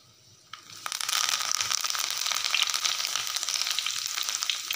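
Curry leaves dropped into hot oil burst into loud, dense crackling and sizzling after a brief quiet start, a close, continuous spitting fry that stays strong to the end.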